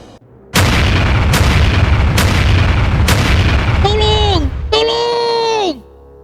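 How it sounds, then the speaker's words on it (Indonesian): A big explosion destroying a building: a series of loud, heavy booms in quick succession, followed by strained, wavering vocal cries over a rumbling background. "Ledakan besar telah terjadi dan menghancurkan bangunan"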